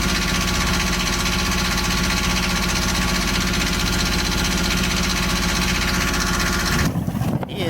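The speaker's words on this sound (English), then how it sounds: "And here you can see the propeller shaft is running." A boat's engine and turning propeller shaft run at close range with a steady, loud mechanical drone and rhythmic knocking, cutting off abruptly near the end.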